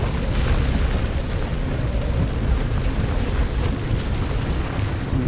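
Storm thunder in the driving game Pacific Drive, a loud continuous low rumbling roar with no break across the whole stretch and no voices.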